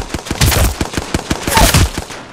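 Rapid repeated rifle shots from a Hemlock in a first-person shooter video game, sharp close cracks fired in quick bursts, loud and dominant with no talk over them.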